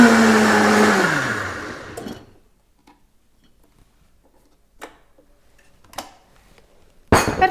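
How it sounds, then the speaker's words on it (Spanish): A kitchen blender whirs loudly with a smoothie for about two seconds, then winds down and stops, followed by a few sparse clinks and a burst of handling noise at the end. "Y ya solo queda batir"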